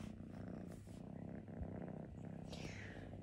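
A small kitten purrs close up in a home, a steady rumbling rhythm that runs throughout with light handling noise.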